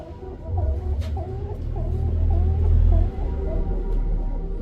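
A pigeon coos in a series of soft repeated throaty calls over a low rumble of background noise, with birds kept for sale nearby.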